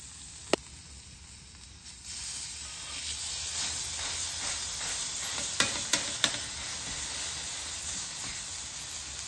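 Burgers are pressed on a hot griddle with butter, jalapenos and onions, giving a faint, steady hiss of sizzling with several sharp metallic clicks and scrapes from the spatula.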